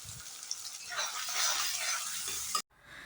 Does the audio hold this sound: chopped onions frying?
yes